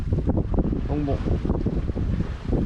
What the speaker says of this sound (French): Puis il y a du vent